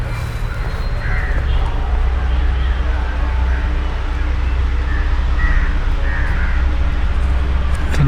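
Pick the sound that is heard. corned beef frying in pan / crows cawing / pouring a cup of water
crows cawing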